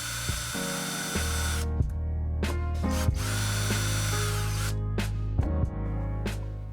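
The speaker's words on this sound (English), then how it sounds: "I'll switch to a power tool." Power tool driving Torx fasteners on a La-Z-Boy ratcheting recline mechanism, several short close whirring bursts of the motor starting and stopping with clicks between, no voices.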